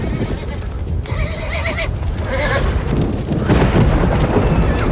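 Wild mustang horses neighing, with shrill whinnies standing out over heavy rumbling and thumping hoof noise that grows louder toward the end.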